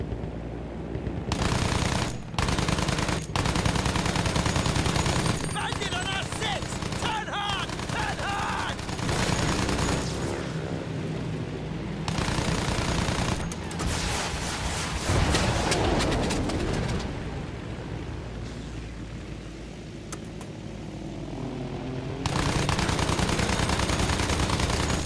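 Aircraft machine-gun fire in the video game Battlefield 1 during a full-throttle dive, loud repeated bursts of rapid shots over steady engine roar and game noise, with brief pauses between bursts.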